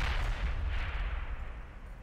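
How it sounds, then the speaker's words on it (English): Artillery shells from a combat video game crash in as a heavy, rumbling barrage: deep booms with a rolling roar that fades slightly over two seconds, with no voices. "Did some friendly artillery or enemy artillery landing on the left?"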